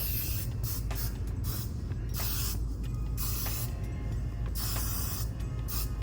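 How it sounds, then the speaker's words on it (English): Shaper hairspray sprayed in several bursts from an aerosol can, with the hiss close and loud over a steady low background hum, with no talking. "I'm gonna use my Shaper hairspray"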